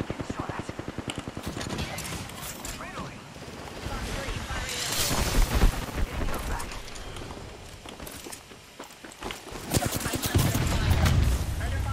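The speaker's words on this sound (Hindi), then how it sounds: "स्नाइपर चला रहे हैं।" Gunfire rings out in the video game Apex Legends, loud and dense, with repeated shots and blasts over a continuous game soundscape while players talk over it.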